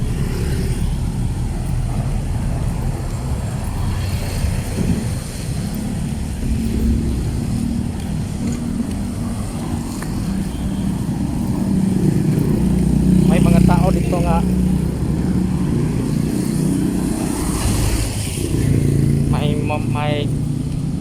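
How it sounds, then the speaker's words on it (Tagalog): Cars and motorcycles pass along a roadside with a continuous engine rumble that swells in the middle as vehicles go by. A person talks over the traffic noise throughout. "maingay kasi merong mga sasakyan na dumadaan"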